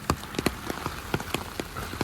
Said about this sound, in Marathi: इकडे फुल पाऊस चालू आहे